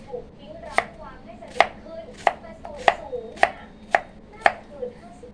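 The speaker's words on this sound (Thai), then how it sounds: "เสร็จแล้วปอกฟักหั่นฟัก" Seven sharp knife chops cut winter melon on a board at a steady rhythm, close and crisp, with a quiet room hum beneath and no talking.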